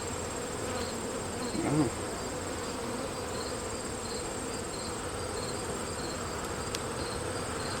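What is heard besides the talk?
honeybees buzzing around an opened hive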